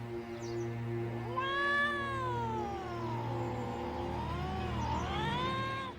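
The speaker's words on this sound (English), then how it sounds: "hears a cat yowling, which he thinks is coming from outside" A cat yowls in one long, drawn-out, rising and falling cry, close and clear over a low steady hum, and the wail bends upward again near the end.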